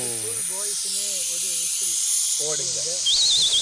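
A steady high hiss of escaping steam from a pressure cooker cooking chicken runs beneath someone talking, and a short, wavering whistle rises near the end.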